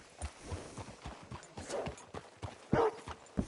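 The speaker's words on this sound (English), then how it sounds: "Hitch your horse up here." Horse hooves clip-clop at a walking pace in the open-world video game Red Dead Redemption 2, a steady series of fairly faint, close thuds with no talking.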